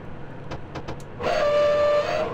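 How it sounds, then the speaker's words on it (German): A steady, sustained train whistle from Train Simulator sounds alone for about a second after a few short clicks, loud and close with a bright, tonal, slightly harsh character. "Pfeife ist wirklich grottig"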